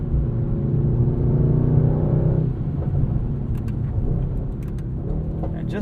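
A 2021 Mercedes-AMG GT63S with a 9-speed automatic transmission drives along, its engine a loud, deep rumble that swells and then eases as it shifts, with a few faint clicks near the end.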